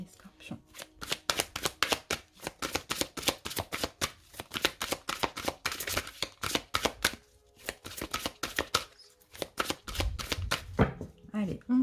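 Tarot cards are cut and shuffled close up in a rapid run of crisp, riffling snaps and slaps, with a short pause before more handling and a voice talking near the end.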